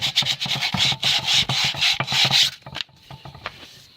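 Hand sanding of a rusty part during a workhorse repair, quick rhythmic rasping strokes close up for a couple of seconds, then slowing to a few lighter scrapes.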